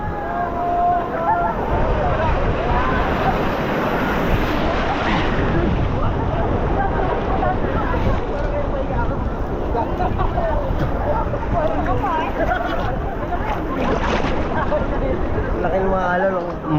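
Large ocean waves crash and roll continuously onto a surf beach in Quezon. The roar is loud and close, with wind gusting through it and voices calling out over the surf.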